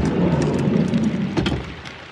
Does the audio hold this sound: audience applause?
no